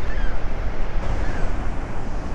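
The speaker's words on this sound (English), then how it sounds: "So here's the river flowing down to make the falls." Fast water of the Niagara River rushing toward Horseshoe Falls, heard as a loud, steady broadband roar with gusty wind buffeting the microphone throughout.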